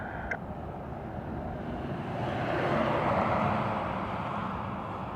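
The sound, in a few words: airliner taking off at full power, Dublin Airport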